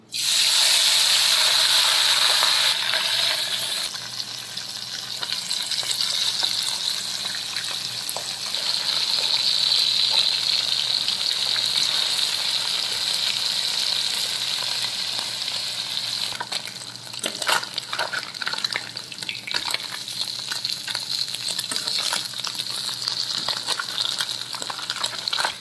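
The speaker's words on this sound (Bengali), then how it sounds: "এবার আমি মাছগুলো ভেজে নেব।" Morola fish fry in hot oil in a kadai (wok), a strong, continuous bubbling sizzle that stays loud throughout with a few soft clinks and no talking.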